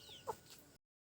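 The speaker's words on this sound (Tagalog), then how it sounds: "may manok silang alaga dito" Domestic chickens kept by an Indigenous Mangyan community make a single brief, moderately near cluck against faint outdoor background, with no talk.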